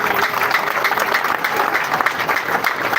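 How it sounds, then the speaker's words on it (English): Steady applause from a large crowd of supporters at an outdoor political gathering, dense and continuous clapping at close range for the whole stretch. "Please clap for yourselves."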